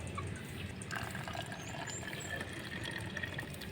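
Water is poured into a plastic bottle for cooking rice, a steady trickling, gurgling fill that runs without a break, close to the microphone, fairly quiet and with no speech over it.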